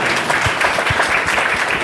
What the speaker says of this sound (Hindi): तो इनके लिए भाई एक जोरदार ताली हो जाए।